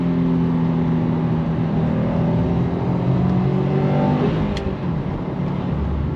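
Subaru WRX STI with a six-speed manual revving hard under throttle in third gear, a loud, steady engine drone rising in pitch and filling the whole stretch, close to the car.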